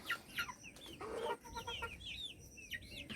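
Two brooding hens sitting together on eggs in a backyard poultry pen cluck in short, close bursts, with a few higher squawks and a low growling call mixed in, and no one talking.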